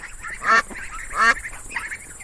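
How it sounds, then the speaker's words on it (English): A duck quacks three times in short, evenly spaced calls over faint background noise. "D for duck."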